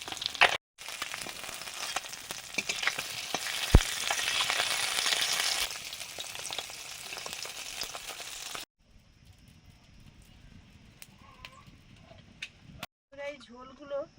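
Fish sizzle and crackle steadily in hot oil in a home kitchen for about nine seconds, with loud, continuous frying noise, then quieter kitchen clatter follows.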